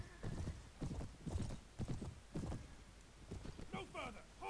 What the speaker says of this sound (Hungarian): Levágom ezt a lovat, puf.